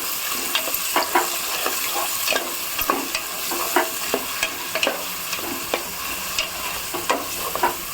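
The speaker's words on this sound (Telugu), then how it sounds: "కొంతసేపు మంచిగా నూనెల దగ్గరికి గోలనియాలి" Onions and carrots fry in oil, stirred at intervals to make a meal maker pulao, giving a steady sizzle broken by repeated sharp scraping clicks of the spoon, close and fairly loud, with no speech.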